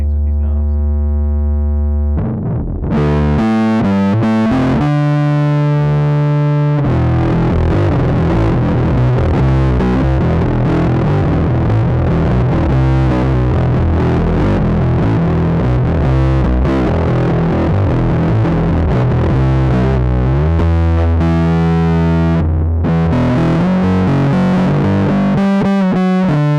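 Bass guitar played through a Skreddy Pink Flesh fuzz pedal, giving a thick, heavily distorted tone with a swirling, modulated edge. It opens with a held note, then turns to loud, busy riffing that continues steadily with no talking.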